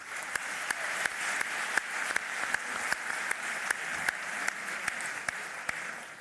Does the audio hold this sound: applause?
yes